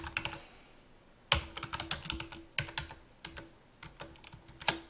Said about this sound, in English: And we'll just type